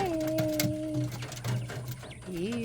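Pet quail call in a home setting, short tonal whistling notes and soft repeated coos over a low mechanical hum, close but modest in level, with no talk.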